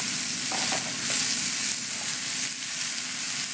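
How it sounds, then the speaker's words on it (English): Onions and eggplant for a ratatouille fry in a pan, a steady close sizzle with faint stirring scrapes and no talk. "I'm going to add our onions back in and our eggplant."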